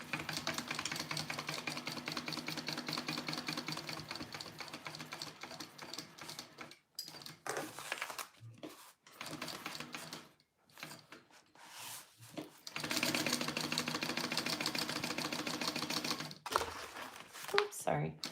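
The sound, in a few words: sewing machine basting a pocket onto a pouch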